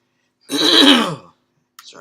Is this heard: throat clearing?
yes